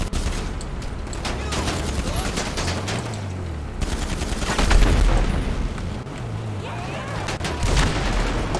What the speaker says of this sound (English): Then the peace signs go away and the automatic weapons come out.